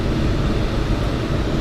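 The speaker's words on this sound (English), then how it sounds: "I use a little bit of those spoilers to start the plane coming down." Steady broadband airflow rushing past a glider on its downwind leg as the spoilers are deployed to start the descent, a continuous close wind noise with no voices.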